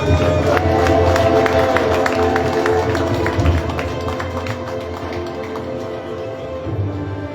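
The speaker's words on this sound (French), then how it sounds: "Sous vos applaudissements, s'il vous plaît." Audience at a conference welcoming a speaker with applause and cheering, a loud, dense crowd roar with rapid clapping that eases off slightly toward the end.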